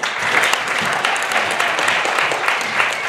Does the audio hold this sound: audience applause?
yes